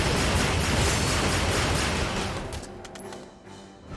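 Dense, sustained gunfire from Valkyria Chronicles 4 rattles loudly and continuously for about two seconds, then thins out into scattered shots and a fading tail.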